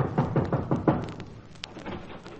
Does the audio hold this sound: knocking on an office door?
yes